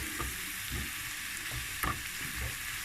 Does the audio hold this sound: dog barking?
no